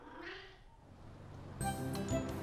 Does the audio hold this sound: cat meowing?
yes